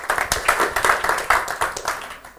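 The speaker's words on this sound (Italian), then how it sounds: "un applauso ad Alex" A small audience at a talk claps for a speaker, with distinct individual hand claps forming a brief, uneven burst that tapers off.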